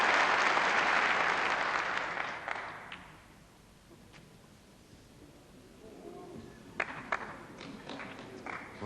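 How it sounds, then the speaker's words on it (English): A snooker crowd at a championship final applauds loudly after a pot, the broad clapping fading over a few seconds into quiet murmurs, followed by a few scattered claps and thuds near the end. "you can hear the oohs and ahs from the crowd"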